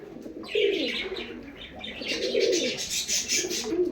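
Dubas pigeons cooing nearby, a few soft, throaty coos in quick succession with light chirpy overtones and a brief flutter, fairly loud and close with no voices.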